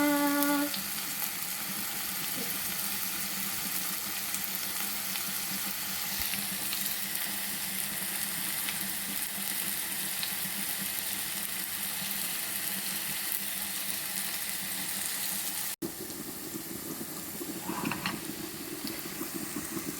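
Seasoning for vegan Jamaican ackee fries and sizzles steadily in a pan, a continuous close, dense crackle that runs throughout, with a brief clatter near the end.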